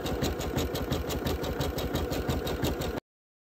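An embroidery machine stitches with a fast, steady mechanical rhythm of rapid needle strokes and a whirring motor, close and loud, until the sound cuts off abruptly near the end.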